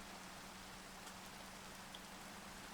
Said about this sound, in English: Please, stop raining.